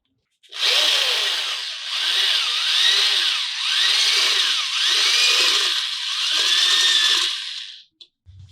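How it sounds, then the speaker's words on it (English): A small power drill whines loudly in several long bursts, its pitch sagging and rising as the bit grinds through metal, then cuts off. "I have a small drill that I can"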